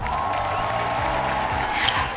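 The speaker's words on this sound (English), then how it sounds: "A round of applause for us." A round of applause on a home renovation show, with steady clapping and some cheering at moderate volume, fairly soft overall and holding evenly throughout.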